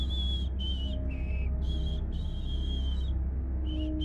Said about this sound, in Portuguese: O assobio começou. Eu consegui ouvi-lo claramente.